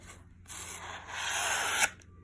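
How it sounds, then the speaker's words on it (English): A plastic piece scrapes excess foam off paper during a marbling art demo, a soft close rubbing swipe that starts abruptly, builds steadily for over a second, then cuts off, with no speech. "I'm just going to scrape off the extra foam"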